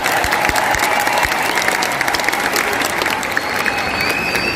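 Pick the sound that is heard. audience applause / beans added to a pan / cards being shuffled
audience applause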